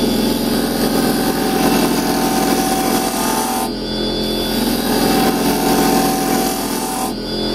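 A wood lathe spins as a carbide chisel cuts into end grain on a hollowed birdhouse blank, giving a loud continuous scraping whirr with a tonal hum. The tool overhangs far from the rest, and the chatter dips briefly as the cut eases.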